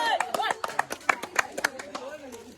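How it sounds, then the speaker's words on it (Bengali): A small crowd claps for Sajib with uneven, scattered hand claps that fade out toward the end, while people talk and cheer over them. "সজীবের জন্য হাততালি সবাই করে"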